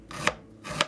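Fresh ginger rasped twice against a grater, two short scraping strokes close by, each building to a sharper scrape, with nothing else in between.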